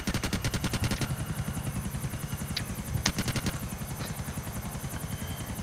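A helicopter's rotor in Grand Theft Auto IV multiplayer thumps steadily and loudly throughout, joined by a few sharp gunfire-like cracks. No one speaks.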